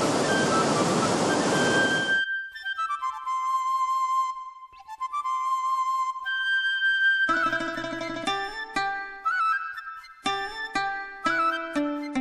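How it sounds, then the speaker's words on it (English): A waterfall near Da Lat, Vietnam rushes as a dense, steady roar for about two seconds, after which tonal music takes over and continues alone. "But this is a nice waterfall here."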